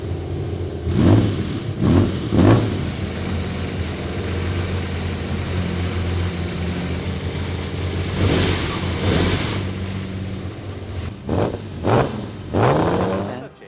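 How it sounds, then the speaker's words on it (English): A hot rod Lamborghini Miura engine cranks and catches, with several loud, separated revving bursts rising and falling over a steady idle rumble, close to the microphone. "Checking the distributor's timing, and we should be ready to fire it up."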